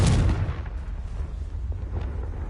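The Confringo spell explodes in Hogwarts Legacy on PS5, a loud deep boom at the start that rolls off into a rumbling decay with faint crackles.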